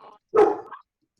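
A big dog gives one deep, loud bark, close by, preceded by a faint short sound and followed by silence.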